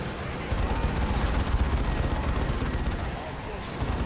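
Dense, sustained gunfire and explosions from a Dawn of War 2 battle between Tyranid broods and Space Marine forces, a continuous loud rumble of overlapping shots with a voice speaking over it.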